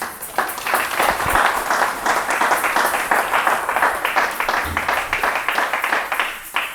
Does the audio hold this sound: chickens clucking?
no